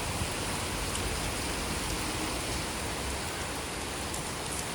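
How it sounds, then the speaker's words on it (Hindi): Heavy rain pours steadily in Bengaluru, a dense, even hiss of drops on surfaces that holds at a constant loud level throughout with no voices. "ये देखो, मस्त बारिश हो रही है"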